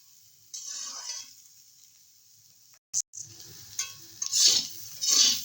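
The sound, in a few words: stirring and frying prawn heads on low flame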